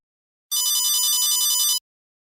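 A phone rings in an office with a bright electronic ringtone, a steady trilling burst of just over a second that starts and stops abruptly, heard alone without talk.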